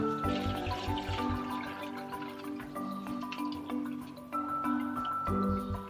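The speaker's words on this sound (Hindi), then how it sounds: "ये इस पानी को जो है हम स्ट्रेनर में छान लेंगे" Soaked tamarind water being poured through a kitchen strainer, a soft continuous trickle and drip of liquid with faint squishy textures, fairly quiet and steady throughout with no talking.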